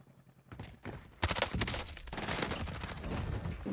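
Gunfire in the shooter game Warzone, a burst of rapid shots breaking out after a quiet start and carrying on as a dense run of cracks at a moderate distance.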